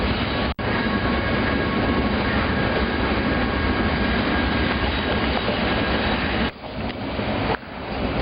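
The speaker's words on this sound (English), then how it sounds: "The darkest hours of the night, train blazes through my old college town" A freight train blazes through a college town at night, a loud, continuous close roar of rolling wagons with clattering wheels that cuts off sharply near the end.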